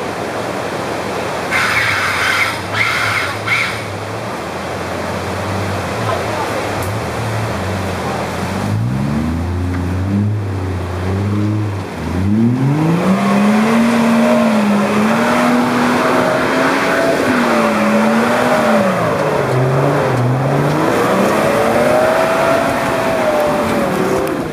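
A rally car with a flat tyre roars past loudly, engine note climbing and falling through gear changes over a constant wash of road and crowd noise.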